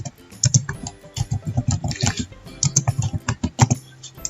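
Computer keyboard typing in a tutorial on building a Kahoot quiz, with irregular bursts of close keystrokes and a few clicks, no voice over it.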